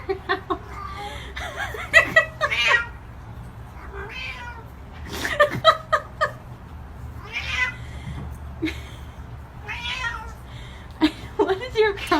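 A noisy cat meows repeatedly in bursts over low background hum, with people talking and chuckling around it.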